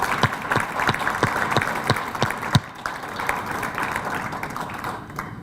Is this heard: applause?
yes